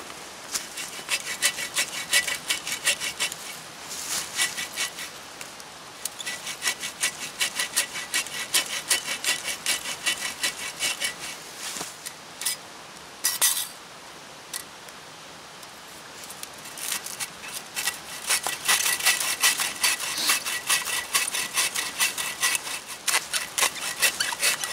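Wood is cut by hand with a saw to make a cutting board at a rainy camp, a run of rapid rasping back-and-forth strokes, close and steady with a few brief pauses.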